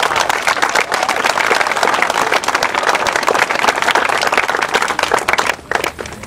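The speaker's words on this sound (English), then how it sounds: "Let's give them a round of applause" Audience applause for student bands at a groundbreaking ceremony for the Flintlock flyover, steady dense clapping throughout, loud and close, dipping briefly near the end.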